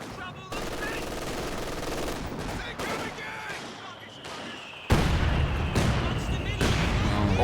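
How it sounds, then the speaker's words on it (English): Heavy gunfire and mortar impacts in a WWII video game match, with continuous machine gun bursts and booming blasts, including a sharp loud impact near the five-second mark, and a voice talking over the battle. "Oh my god. The mortars."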